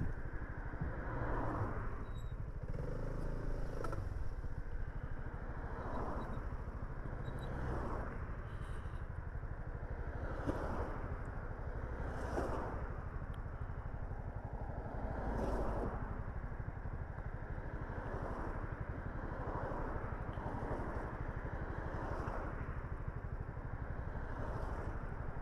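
Motorcycles and other vehicles speed past one after another on a road, a steady roar of traffic with repeated swells as each machine passes nearby.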